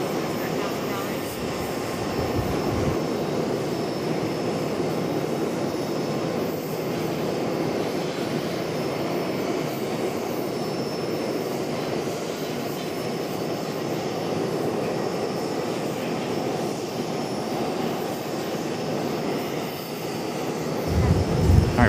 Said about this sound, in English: we got an A319 up for departure